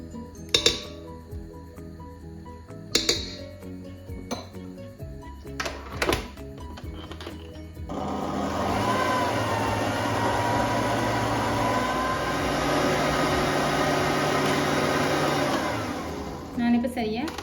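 An electric mixer beats sugar for birthday cake icing. First come a few sharp clinks of utensils against a glass bowl, then the mixer starts with a loud, steady whirring drone that keeps going to the end.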